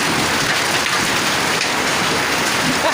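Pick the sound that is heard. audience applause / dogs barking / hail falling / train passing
hail falling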